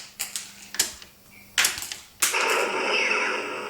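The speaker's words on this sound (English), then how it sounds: "The central blaster actually has a sound when it fires." A toy Star Wars Millennium Falcon's central blaster fires with a short series of sharp clicks, then a burst of crackly electronic blaster noise that lingers to the end, close and moderately loud.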